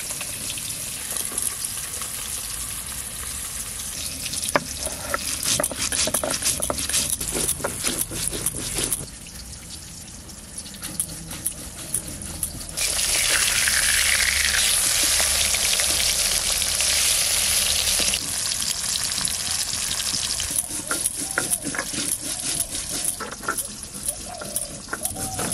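Pieces of black carp tail fry in hot oil with a steady, close crackling sizzle, broken by sharp popping spatters. A louder hissing surge rises in the middle, and there is no talking over the frying.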